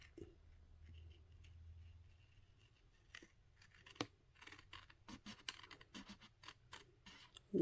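Small, well-worn scissors fussy-cut around a paper shape for a candy treat basket, giving close, quiet snips that turn into a fast irregular run of crisp clicks after the first few seconds.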